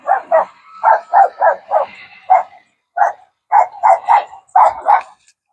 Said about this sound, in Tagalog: Nabulabog na naman yung mga aso.